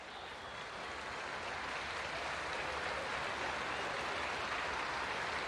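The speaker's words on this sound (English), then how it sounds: "So applause for Tallaght Wright as he makes his way around the pitch" Distant stadium crowd applauding steadily during an under-21 international football match between Ireland and Luxembourg, a broad even wash of clapping with no clear individual claps.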